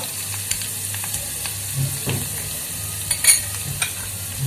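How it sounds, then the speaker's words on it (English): Garlic cloves and a piece of ginger sizzle in a tablespoon of hot oil in a pan, a steady close crackle with scattered pops and a few soft knocks, no voices. "Once the oil is hot, add 3 to 4 cloves of garlic, 1-inch piece of"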